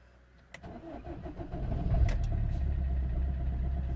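A Vauxhall Corsa D 1.3 CDTi diesel that has sat overnight cranks briefly and catches, then settles into a steady, loud idle close by, with no talking over it.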